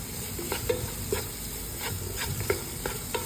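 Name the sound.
stirring and sautéing soybeans in a pan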